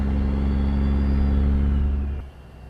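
Kenworth K100E single-axle cab-over truck engine from American Truck Simulator, a steady loud low rumble with a slight rise in revs, then cutting off sharply near the end, no voices.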